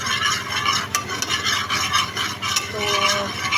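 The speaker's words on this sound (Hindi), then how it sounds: "चीनी और पत्ती को अच्छे से हम कुक करेंगे।" Sugar and tea leaves cooking for dhaba-style karak chai in a pot make a dense, continuous bubbling sizzle, with scattered light clinks of a spoon stirring close by.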